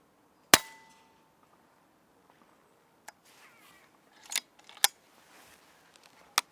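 An air rifle fires at a rabbit in a quiet field, giving a sharp single crack followed by a few fainter clicks and snaps, close to the microphone against near silence.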